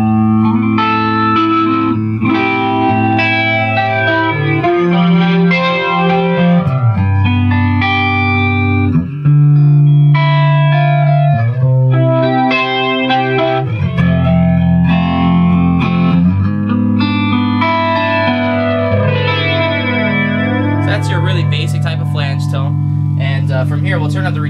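An MXR Flanger pedal on electric guitar, first with a clean tone and then distorted, gives sustained chords with sweeping, whooshing jet-like swirls that rise and fall in slow cycles, loud and continuous with no talking.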